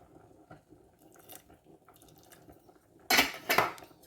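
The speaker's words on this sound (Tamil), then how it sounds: "இப்போ நான் அடுப்பு போட போகிறேன் இதுக்கு தேவையானலாம் தண்ணியை விடுறேன்" Water splashes into a cooking pot on a stove while making a snake bean milk curry, with light metallic clinks followed by a short, loud burst of pouring near the end and no speech.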